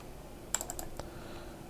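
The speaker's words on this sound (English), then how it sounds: "I'm clicking on that" Computer mouse clicking: a quick burst of four light clicks followed by one more click, faint and close against quiet room tone.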